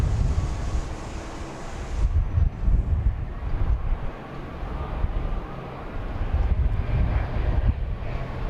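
Jet aircraft making a low pass over a runway at Dallas Love Field, heard as a loud roaring rush mixed with wind buffeting the microphone, swelling and fading without speech.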